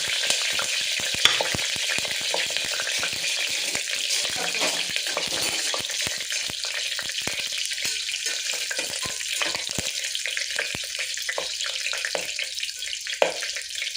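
Whole cinnamon, star anise, five or six cloves and two cardamom pods sizzle in hot oil in a pan for pulao: a steady, close hiss with crackles and occasional stirring clinks, no talk.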